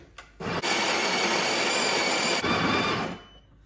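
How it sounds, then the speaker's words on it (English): Built-in grinder of a Breville Barista Touch espresso machine grinding coffee beans: a loud whirring burst of about two seconds that starts abruptly, then trails off with a short softer tail and no voices. "We'll grind some coffee."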